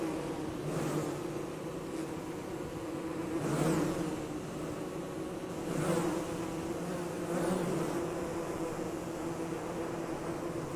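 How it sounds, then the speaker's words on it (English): Dense swarm of bees buzzing in Don't Starve Together, a continuous droning hum that swells and fades in several waves, steady and fairly loud with no voices. "There's gonna be a lot of bees here."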